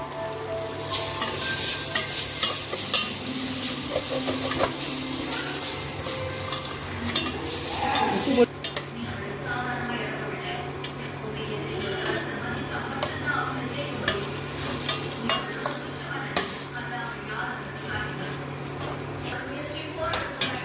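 Chana dal being sautéed in a pan with a little salt for chutney, with a busy, continuous sizzle and frequent scraping stirs of a utensil against the pan, close up, while a person talks over it.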